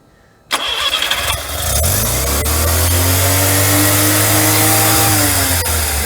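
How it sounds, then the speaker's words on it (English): Sudden cranking catches as a car engine fitted with a Nikki carburetor fires up right after a float adjustment, briefly revving before settling into a loud, steady idle close by. "we're starting it up now after we just put it all back together for the first time"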